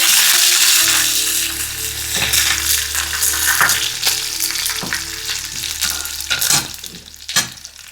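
Green chillies and curry leaves fry in hot oil after mustard seeds have popped, a loud continuous close sizzle with scraping stirs and scattered sharp crackles, fading somewhat toward the end; nobody speaks.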